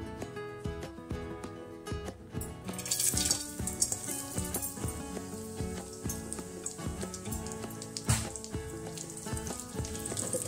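Grated coconut fries in hot oil with a soft, steady sizzle broken by scattered small pops and crackles, heard close and alone without any talking.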